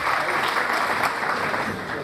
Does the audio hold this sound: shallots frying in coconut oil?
no